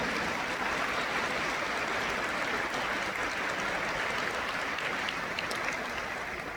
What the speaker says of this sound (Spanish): Y también le vamos a dar un gran aplauso.